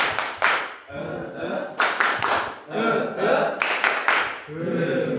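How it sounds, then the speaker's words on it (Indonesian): Students perform a rhythmic spirit clap in unison, sharp clustered claps in repeated patterned groups with brief pauses between, loud and close, with voices chanting alongside. "sekali lagi tepuk semangat"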